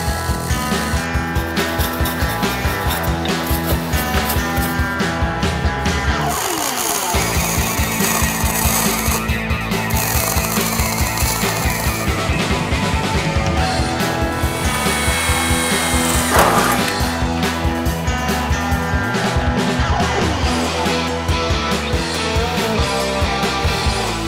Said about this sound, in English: I'm gonna start welding the shelves right in the middle first.